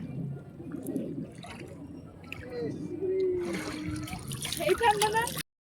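Ganga river water at Barrackpore is scooped into a container at the riverbank, with watery splashing and trickling building toward the end, mixed with outdoor background noise and a person talking nearby.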